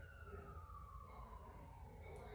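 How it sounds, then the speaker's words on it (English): A faint, distant siren wails with a slowly falling tone under low background rumble. "Y'all hear the sirens?"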